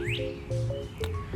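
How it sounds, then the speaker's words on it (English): A pet bird chirps indoors in a home setting, giving a few short rising tweets and whistled calls close by over a faint steady background hum, with no talking. "I think the bird wants to talk."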